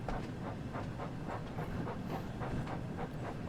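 A train rolls along in the Thomas and Friends: Wonders of Sodor video game, giving a steady rumble with rhythmic clickety-clack beats and a soft hiss throughout.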